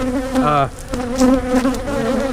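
Dense honey bee buzzing fills the air close by as a hive is split, a steady droning hum with shifting pitch and swells, no voices.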